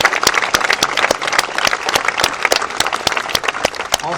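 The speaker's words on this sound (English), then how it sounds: "Please give American Airlines a big round of applause." A large audience at a Hollywood salute to heroes event bursts into steady, full applause, dense clapping sustained throughout without a break.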